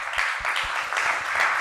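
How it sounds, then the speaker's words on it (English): An audience at a science conference event applauds after a presentation, a brief, steady patter of many hands clapping at moderate volume with no speech over it. "Round of applause."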